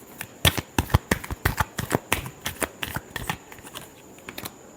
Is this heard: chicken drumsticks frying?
no